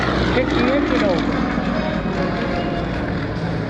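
A propeller aerobatic airplane performs vertical maneuvers and a hammerhead stall turn at the Greater Binghamton Airshow, its engine a loud, steady drone that rises and falls under an announcer's commentary.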